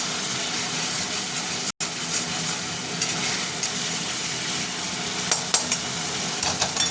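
Masala paste frying in oil that has begun to separate, a loud, continuous sizzle close up, with a brief dropout and then a few sharp crackles and spatters toward the end.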